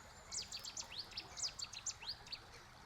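A bird sings at a nature reserve, a string of quick high chirps and trills repeated for about two seconds over faint outdoor background hiss, moderately distant.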